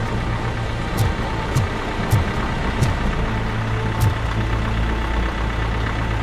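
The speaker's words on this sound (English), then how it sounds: "Oh, I can hear an engine." Vehicle engine idling in the video game Robocop Rogue City, a loud, steady low rumble close by with a few short periodic clanks and ticks over the drone.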